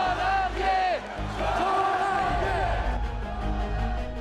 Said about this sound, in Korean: 그가 집회 현장에 나타나면 청년 참가자 사이에선 환호가 터져 나옵니다